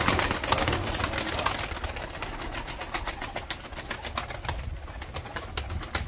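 Pigeons coo and flutter outdoors over a sea view, the soft calls half buried in steady, rushing wind noise, with no talking.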